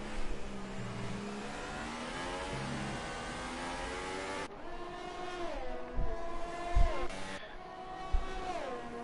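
On-board engine of a Formula 1 car racing the Canadian Grand Prix in an F1 video game, a high sustained whine rising and falling with gear changes, with occasional thumps from curbs or impacts.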